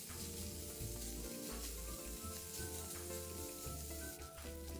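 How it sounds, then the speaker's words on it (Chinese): Thin strips of pork belly, about 200 grams, stir-frying over medium heat in a hot wok, giving a steady close sizzle with occasional stirring scrapes and no talk. "200克五花肉切成细条状，再倒入热货内，中火煸一煸香。"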